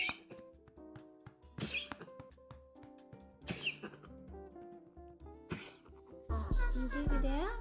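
Someone coughs and clears their throat in short bursts over quiet background music, with a soft voice and small squeaky sounds, close and fairly faint.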